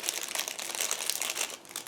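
Plastic crinkles and rustles continuously as a bag holding Flyhawk 1/72 tank model kit parts is cut open, a close, busy crackling with no talking.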